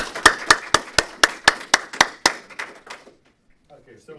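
About ten sharp, evenly spaced claps from an audience at a dinner event welcoming a law firm partner, rhythmic and close, fading out before soft voices murmur at the end.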